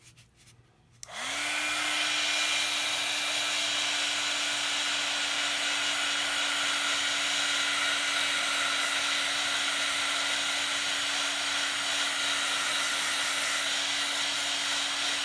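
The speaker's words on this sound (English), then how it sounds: "Now I'm going to hit it with the dryer for just a second." A hair dryer switches on after a moment of quiet and blows steadily with a constant whirring hum and rushing air, loud and close, uninterrupted.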